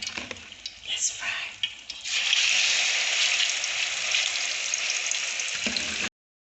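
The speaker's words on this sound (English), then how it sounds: "So we are frying gently." Plantain slices for Ghanaian kelewele sizzle steadily in hot oil, a dense broadband frying hiss that swells after a quieter start and holds loud and close until it cuts off.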